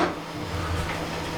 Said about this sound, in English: the noise you can hear is the printer's going off in the background